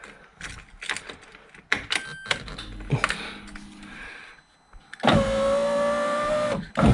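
A Vauxhall Corsa C power window runs on a newly fitted switch: a few clicks and mechanical knocks, then a loud, close, steady electric motor whir for about two seconds before stopping abruptly.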